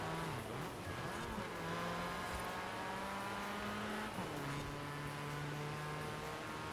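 A car engine in the racing game Forza Horizon 4, with the BMW M6 being unlocked, holds a steady loud drone with harmonic lines that climb and drop as revs change, under light tire noise and no speech.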